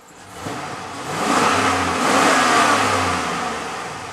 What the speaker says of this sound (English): As you can see, that revs right up, very responsive.